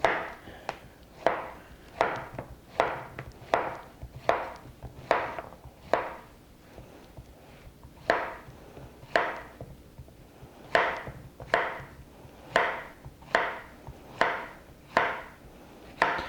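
A knife slices a washed zucchini on a cutting board, producing about a dozen and a half crisp, evenly spaced chops close by, with a brief pause midway.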